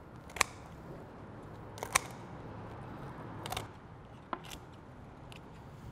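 Shears cutting through a raw turkey backbone: several sharp crunching snips and cracks at irregular intervals, close and crisp, with quiet rustling between them.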